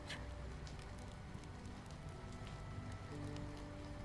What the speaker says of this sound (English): blending with the sound of rain tapping against the cottage roof